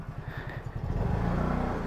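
A motor scooter ridden on a road, its engine hum rising and steadying into a continuous close drone with some clatter, no talk over it.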